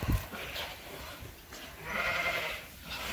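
Young ram lambs bleat faintly on a sheep farm, with a few soft, scattered calls over quiet outdoor background noise and a brief knock at the start.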